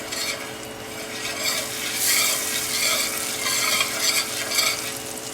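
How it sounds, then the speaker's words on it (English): Green beans cook in a pan with a soft continuous sizzle while a spoon stirs and scrapes at irregular intervals, close but fairly quiet, with no talk. "And my green beans also cooking."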